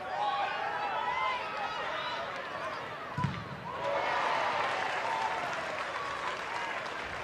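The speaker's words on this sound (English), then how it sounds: "You can hear the cheer from the West Ham fans." West Ham fans in a stadium roar and cheer during a women's football match against Leicester City, a steady, continuous wash of noise, with a commentator's voice talking over it.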